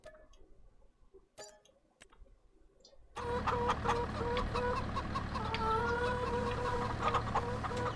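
Chickens and a rooster cluck in the farm sim game Moss Valley; after a few quiet seconds of faint clicks, a dense, busy chorus of clucking and chattering fowl comes in and continues steadily.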